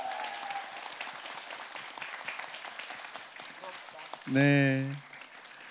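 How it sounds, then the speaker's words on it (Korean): An audience at a Korean meditation event applauds, a dense patter of clapping heard under a host's speech for several seconds. "앞으로 행복한 일상 살아가실 두 분을 위해서 박수 한번 드려볼까요?"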